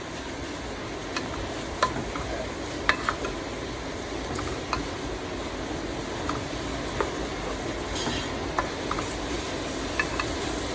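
Pakbet vegetables being stirred in a pan, a low steady cooking rumble with scattered light clicks and scrapes of a utensil at irregular intervals, moderately close and without any speech.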